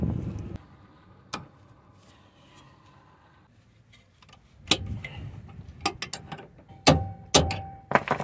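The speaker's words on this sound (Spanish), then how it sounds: "Vamos a intentar la tenaza de presión aquí." Locking pliers working on the stabilizer bar of a 2003–2008 Toyota Corolla Matrix: sharp metallic clicks and clanks, sparse at first, then a quick cluster of close taps and snaps near the end, with no voices.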